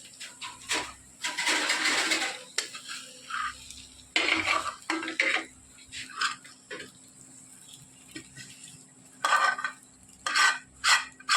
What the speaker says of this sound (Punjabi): ਬਣ ਗਈ ਮੈਗੀ ਹੁਣ ਇਹਨੂੰ ਪਾਉਣਗੇ ਇੱਕ ਪਲੇਟ ਵਿੱਚ